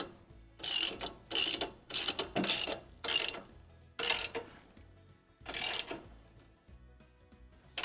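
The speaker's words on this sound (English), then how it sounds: "Get this lock nut started. Alright. Oh, I've got a 22 millimeter socket here and my handy dandy adjustable wrench here." A 22 mm socket on a ratchet wrench tightens a lock nut while a MechMaxx B150 wood chipper is assembled, giving about eight close, crisp clicking ratchet bursts in short uneven strokes with pauses between.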